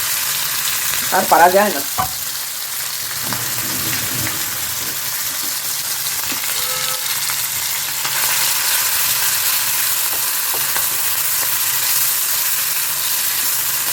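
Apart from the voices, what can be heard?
mourala fish frying in oil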